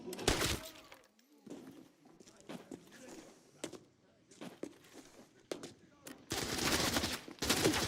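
RPK machine gun fire in the shooter Arena Breakout Infinite: repeated sharp bursts of automatic gunfire near and loud, broken by gaps with footsteps and shuffling, under someone talking.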